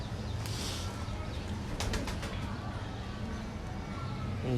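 Rampuri breeder pigeons coo softly over a steady noisy background, with a short burst of wing flapping or fluttering partway through.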